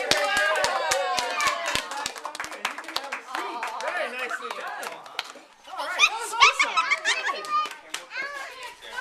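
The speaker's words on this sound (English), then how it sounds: "Let's give her a big round of applause!" Quick rhythmic applause from a small group at a child's birthday party magic show, loud at first and then fading as children's voices and laughter take over.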